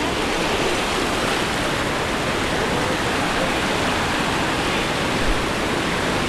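A 500-metre-high waterfall in Ecuador roars as a loud, steady, unbroken wash of rushing water that fills the whole scene, with no voices.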